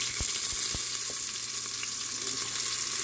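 Sliced onions frying in a pan with fiddlehead fern, a steady, bright sizzle of hot oil with a few soft stirring knocks near the start, quiet and close with no talking.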